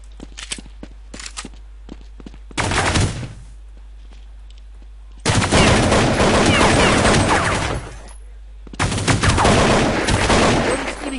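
Bursts of automatic gunfire from Counter-Strike 1.6, a loud sustained burst and two long rattling volleys separated by quieter stretches with scattered clicks and footsteps, heard without talk.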